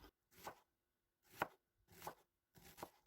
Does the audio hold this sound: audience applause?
no